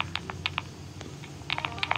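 Clicky keys on a computer keyboard are tapped in quick, uneven bursts for ASMR, close-miked but soft over a low background hum, with no talking.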